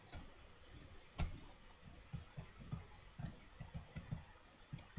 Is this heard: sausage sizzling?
no